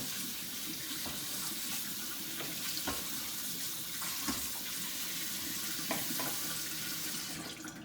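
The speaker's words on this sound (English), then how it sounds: "don't forget you're washing your vegetables and your fruits" Kitchen tap running into a sink while vegetables and fruits are washed, a steady close splashing rush with small clunks and knocks as produce is handled.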